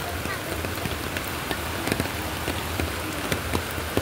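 Steady rain patters on a surface near a waterfall with a strong current, a dense continuous hiss with scattered distinct drops, and faint voices underneath.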